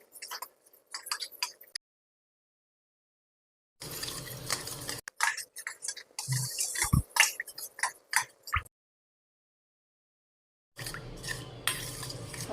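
A spoon mashes and stirs egg into a bread mixture in a bowl for a bread omelette, making soft scraping and clicking utensil taps in intermittent bursts separated by silent gaps, close and fairly quiet.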